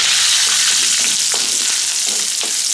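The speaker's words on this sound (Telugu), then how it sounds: "కరివేపాకు వేసుకొని స్టవ్ ఆపేసుకున్నాను నేను వెంటనే." Curry leaves sizzle in hot oil for a tempering for amaranth greens chutney, a steady loud frying hiss with a few brief crackling bursts, no voices.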